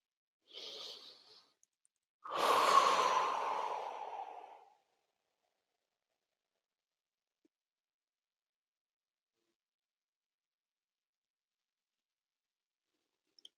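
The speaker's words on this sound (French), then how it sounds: "faire 3 respirations de nettoyage, 3 respirations profondes" Slow, deep breathing during a guided meditation: a short soft inhale followed by one long, full exhale, close and alone, then a long stretch of near silence.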